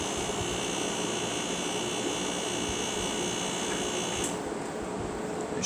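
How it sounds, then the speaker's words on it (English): A 1996 Fedders 6,000 BTU window air conditioner with a loud compressor runs as a steady hum with a broad roar, then shifts near the end as part of it cuts out. "And it has a very loud compressor."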